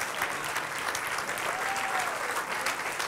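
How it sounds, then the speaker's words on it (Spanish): A standing church congregation claps during a Spanish-language service, a thick, continuous burst of applause at constant strength across the whole stretch, no speech on top. "Póngase en pie y den un aplauso al Señor."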